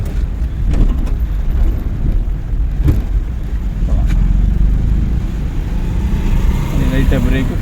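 A car in second gear during a driving lesson gives a steady, low engine and road rumble that runs throughout, with a few brief clicks and knocks, while people talk over it.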